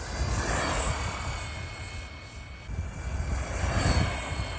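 Traxxas Slash BL-2S brushless RC truck on its stock system driving at speed: a continuous high motor whine with rushing tire and wind noise, swelling and fading slightly as it passes, fairly distant.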